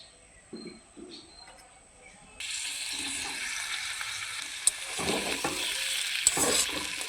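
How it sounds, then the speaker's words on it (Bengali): Previously fried eggplant goes into a pan of browned potatoes and starts to sizzle loudly. A steady frying hiss with clinks of stirring follows a quieter start, and birds coo faintly in the background. "এখন দিয়ে দেবো ভেজে রাখা বেগুন।"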